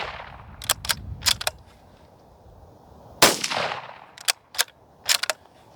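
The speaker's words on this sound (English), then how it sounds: "These are extremely loud, unsuppressed." An unsuppressed .17 HMR rifle fires a string of sharp, loud cracks outdoors, some in quick pairs, with one louder report followed by a lingering echo.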